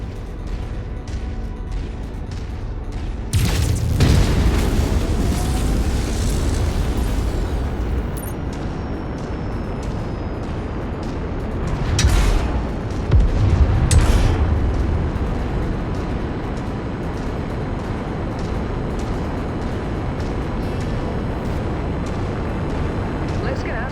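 Explosions in the MechWarrior video game, with loud bursts and booms rising over a steady roar of battle noise, a long blast followed by two more sharp hits, while voices talk throughout.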